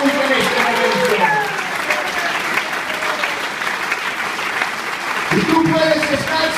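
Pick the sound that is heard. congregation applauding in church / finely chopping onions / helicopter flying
congregation applauding in church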